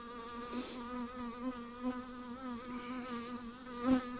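Honeybees hum in a dense, steady drone close by at an open hive during a hive inspection, the buzzing wavering slightly as individual bees pass near.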